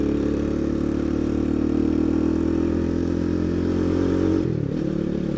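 A ZS-190 engine-swapped Honda Grom clone motorcycle rides along a road, its engine droning steadily and loud, with a brief dip and recovery near the end as the throttle changes.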